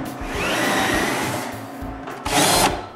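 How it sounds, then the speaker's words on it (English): A power drill bores a run of holes into wood for adjustable shelves, with short close whirring bursts that rise and fall, the last burst louder and brighter. "I drill a bunch of holes for some adjustable shelves"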